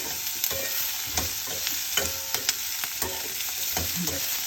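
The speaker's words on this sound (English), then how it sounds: "You saute it well." Onion and herbs sautéing in a pan, with a continuous bright sizzle close up and regular scraping strokes of a spoon stirring through it, no voices.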